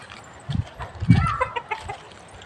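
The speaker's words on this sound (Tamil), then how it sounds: "இந்த கைஸ் கோழி சேவலாம் ஓடுது" Hens and roosters cluck in bursts as they scurry about, a few low thumping calls near and loud among softer scattered clucks over a busy outdoor background.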